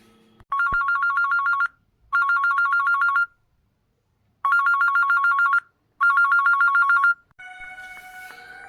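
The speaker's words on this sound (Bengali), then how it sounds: "সহসা এমন সময় ঘরের মধ্যে টেলিফোনটা শব্দ করে বেজে উঠল।" A telephone rings in four long electronic trilling bursts separated by short pauses, clear and close, followed by a faint tonal hum.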